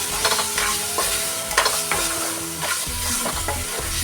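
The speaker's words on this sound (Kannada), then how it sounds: "ಈ ಸಕ್ಕರೆ ಕರ್ಗೋವರೆಗೂ ಹಿಂಗೆ ಫ್ರೈ ಮಾಡ್ಕೋಬೇಕು" Steady frying of sugar melting in a hot pan, a spoon stirring and scraping in clattering strokes over a constant sizzle, close and fairly loud.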